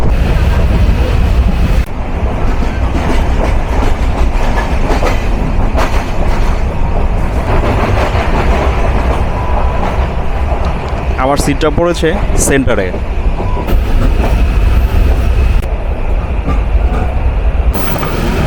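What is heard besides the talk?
Nilsagar Express intercity train running, heard onboard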